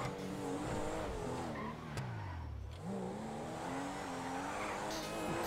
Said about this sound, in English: For how it sounds, this aggressive engine,